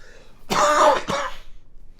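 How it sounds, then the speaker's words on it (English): A close, rough cough in two bursts, the first longer and throaty, the second short, then quiet. "still have a bit of a cough"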